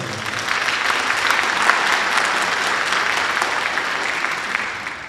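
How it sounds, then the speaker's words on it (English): A dense round of applause from an audience at a school district board meeting, steady and sustained for several seconds before tapering off at the end, loud and without speech over it. "wish them all a great round of applause and continued success throughout the year"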